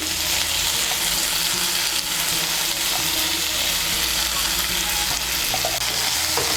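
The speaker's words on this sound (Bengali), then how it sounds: "ধনে পাতা কুচিটাকে মিশিয়ে নেব। মিশিয়ে নিয়ে হালকা করে একটু ভেজে নেব।" Chopped coriander leaves frying together with onion, tomato, ginger and garlic for Bengali aloo dum, a steady dense sizzle running the whole time with faint stirring scrapes and no voices.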